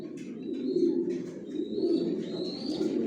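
Pigeons in a newly prepared bedding loft coo in a steady, overlapping low murmur, with a few faint chirps and rustles drifting above, close and continuous.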